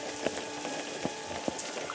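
Rain patters steadily in a video game, with a soft constant hiss and a few distinct drop taps standing out, heard alone at low volume.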